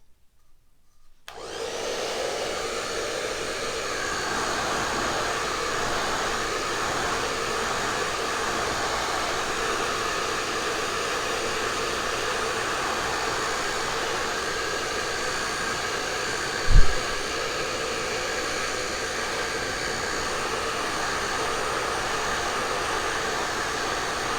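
A hair dryer switches on after a moment of silence and blows a steady, even whoosh while drying sticky milk can ornaments, with one brief thump partway through and no voices.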